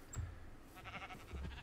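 Sheep bleating in the Minecraft video game, a couple of short in-game calls that are moderately quiet and heard on their own with no talking.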